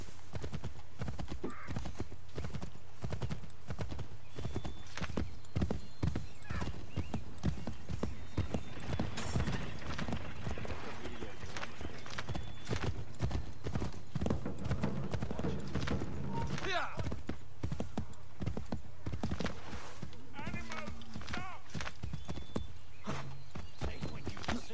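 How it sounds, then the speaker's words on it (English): A white horse walks in Assassin's Creed 3, its hooves clip-clopping in a steady rapid rhythm that stays up front throughout, with game sounds and someone talking over them at times. "Oh yeah, I got a white horsey."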